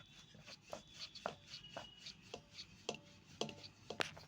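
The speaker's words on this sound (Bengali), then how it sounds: "এখন আমি বেলে নেব।" Chicken momo dough being rolled thin with a rolling pin on a dusted surface, giving a run of soft, close, rhythmic knocks and rubbing strokes about every half second, with no talking.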